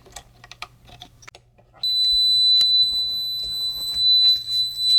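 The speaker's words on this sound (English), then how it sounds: "And the beeper stuck on." The beeper of a Sharp PC-1211 pocket computer sticks on as a steady, thin high-pitched tone that begins partway through and holds continuously, over light clicks and handling noise.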